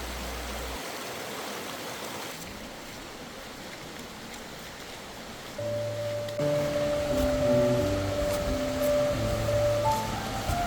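A mountain valley stream in autumn flows with a steady broadband rush of water, fairly distant and continuous. Steady tonal electronic sounds join partway through.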